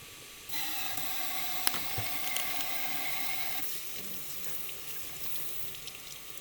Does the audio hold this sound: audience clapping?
no